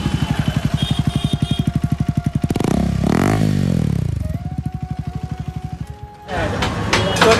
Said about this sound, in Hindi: तो अभी ना अपना साइलेंसर उतर चुका है